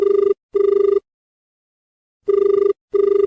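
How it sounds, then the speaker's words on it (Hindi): Telephone bell ringing in repeated double bursts, two rings, a pause, then two more, loud and clear with no voices, on a phone line for a Hindi folk-song call-in show. "फोन की घंटी बजन लगी है"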